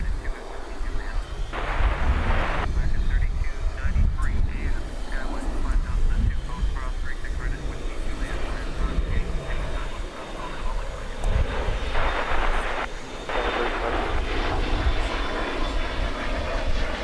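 A McDonnell Douglas MD-11 airliner taxis toward takeoff at a busy airport at night, a steady distant jet engine roar with broad rushing swells, while someone talks over it.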